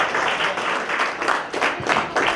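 A crowd at a jazz night applauds a performer, dense clapping that swells in bursts, loud and close, with a few sharper claps standing out.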